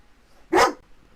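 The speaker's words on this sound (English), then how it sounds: "You don't even know what you're barking at" A single short, sharp dog bark, close and clear, in an otherwise quiet room.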